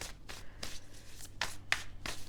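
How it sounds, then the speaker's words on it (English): Tarot cards are shuffled in quick repeated riffling bursts, close and crisp, with no talking. "Let's just kind of shuffle with a little more"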